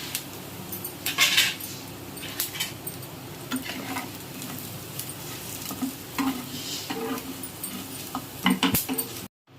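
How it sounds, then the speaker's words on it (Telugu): Fish pieces sizzle steadily in a hot pan with a tempering of chillies, cumin, mustard seeds, lentils and curry leaves, while a utensil scrapes and clinks against the pan now and then. "చేప ముక్కలు మనం ఇప్పుడు ఇందులో వేసుకుందాం."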